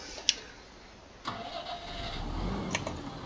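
A tractor engine in a farming video game with a GearBox mod: a click, then the starter cranks and the engine catches into a steady mid-pitched rumble that settles toward idle, heard alone and fairly close.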